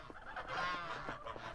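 A goose gives one short, faint nasal honk, heard alone against quiet background noise.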